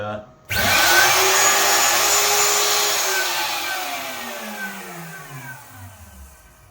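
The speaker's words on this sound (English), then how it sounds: "I just accidentally found the button to turn the spindle on and absolutely scared myself" A Boxford A3HSR CNC lathe spindle bursts on abruptly and loudly, whining up to speed with a rising pitch, then sweeps down as it winds off over several seconds with a falling, fading tone.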